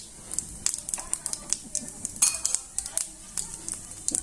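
Cumin seeds hit hot mustard oil, crackling and popping in a dense run of sharp, irregular spits close by, with faint utensil clinks mixed in.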